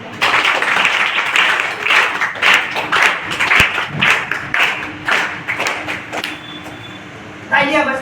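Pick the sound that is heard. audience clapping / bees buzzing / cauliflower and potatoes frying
audience clapping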